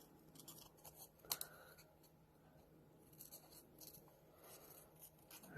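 Scissors trim around an inked ice cream image stamped on paper, giving a few quiet, close snips and light paper rustles, with one sharper cut standing out.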